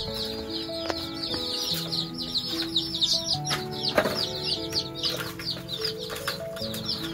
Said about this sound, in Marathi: बघा पूर्ण कलरफुल चिक्स आहे,